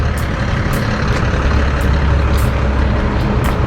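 Air pump at a gas station inflating a bicycle tire that came loose, heard as a loud, steady rumbling hiss with a few short higher bursts, constant and close throughout, no talking.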